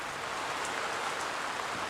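Heavy dawn downpour during a thunderstorm, rain pouring down outside a window as a dense, steady, unbroken hiss of countless drops, fairly loud and close, with no voices and no distinct thunderclap.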